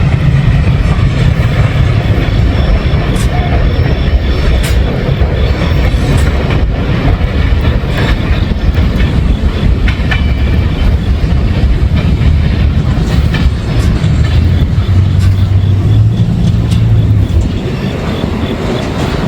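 A B&O freight train rolls past nearby, a steady loud rumble of wheels and cars with rhythmic clickety-clack and occasional faint squeals, continuing without a break for nearly twenty seconds.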